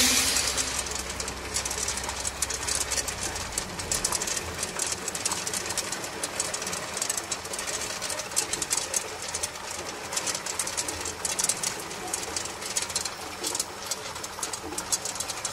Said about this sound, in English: Flooded refrigeration system cube ice machine.